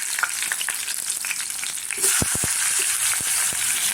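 Green chili and garlic fry in hot oil with a steady crackling sizzle, joined halfway by a louder burst and a few sharp clacks of a spoon against the pan, all close by with no talking.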